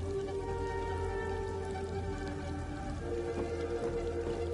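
Steady rain patters in the video game Hell Is Us, a soft continuous hiss of drops under a low ambient hum, quiet and unbroken throughout.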